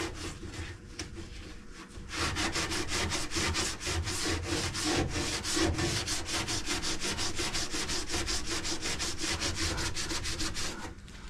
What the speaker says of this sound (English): Now I'm just coming through with a red scuff pad